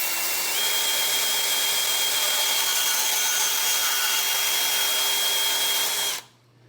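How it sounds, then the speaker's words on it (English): A portable bandsaw cuts through metal conduit in one continuous, steady, close whine lasting about six seconds, then stops abruptly. "I use my portable bandsaw, and I just hold the blade so the blade is parallel with the washer"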